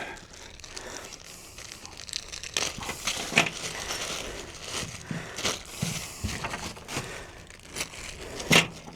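Installation hardware for a KEMIMOTO Midnight S80 sound bar pulled from plastic packaging, crinkling and tearing in irregular close bursts with a louder rustle near the end.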